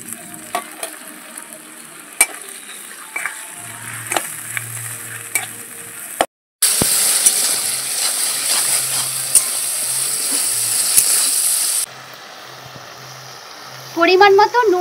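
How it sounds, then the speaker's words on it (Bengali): Ginger, garlic and onion paste fries in oil with a steady sizzle and stirring scrapes, growing louder and brighter after a brief gap, while a voice talks intermittently. "তেলের মধ্যে একটু ভালো করে আদা আর রসুন বাটাটা কষিয়ে নেব।"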